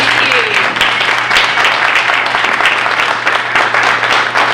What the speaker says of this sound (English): Let's give one more round of applause to our new inductees.